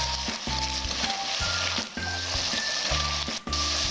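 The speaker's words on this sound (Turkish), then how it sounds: "öne çeken etlerin üzerine sıvı yağını ve soğanını ekliyorum. Kavurmaya devam ediyoruz." Meat and onions sautéing in oil for a Turkish forest kebab, a loud, continuous close sizzle broken by rhythmic stirring strokes that come roughly every half second.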